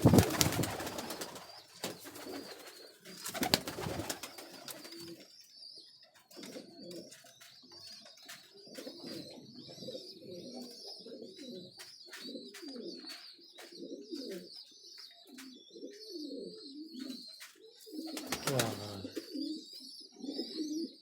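Domestic high-flyer breeding pigeons in a loft setup cooing steadily through the clip, soft repeated low coos with bird chirps and wing or handling noises, near and moderate, no talk.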